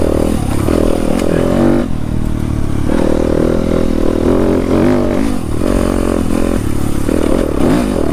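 Dirt bike engine droning loud and close during a night ride, a continuous rough roar with rising and falling revs and faint rattling over the top.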